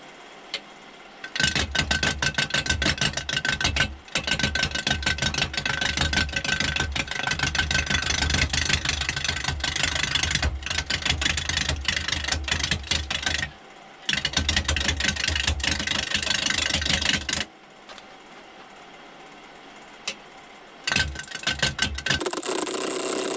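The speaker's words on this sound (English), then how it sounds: "I decided to go with my modified bowl gouge. It's got a different cut than a normal bowl gouge, just to get this thing down round." Wood spins on a lathe while a modified bowl gouge cuts it round for a lamp, making a loud, dense, continuous scraping roar. It breaks off briefly several times as the cut pauses, then resumes.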